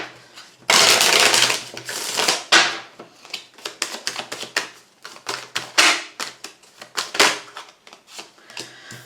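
Oracle cards being shuffled for a tarot-style reading, a dense run of crisp papery riffles and quick snapping flutters repeating in close, loud bursts with no talking.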